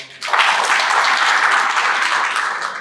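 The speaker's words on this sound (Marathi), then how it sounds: "खरं तर त्यांच्यासाठी जोरदार टाळ्या वाजवा." A crowd applauds Santosh sir at a Marathi financial planning session, steady dense clapping from a large audience that starts abruptly and holds loud and even throughout, with no talk over it.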